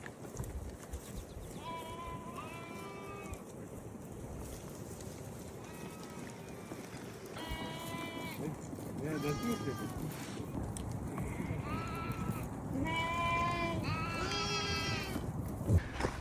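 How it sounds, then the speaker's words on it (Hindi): A large herd of goats bleats on a mountain track near Skardu, Pakistan: repeated overlapping calls from several animals, some close and loud, others farther off, over a steady outdoor background with shuffling movement. "रास्ते में जाते हुए हमें यहाँ के लोगों की बकरियाँ मिली हैं जो कि अभी चरागाह की तरफ लेके जा रहे हैं"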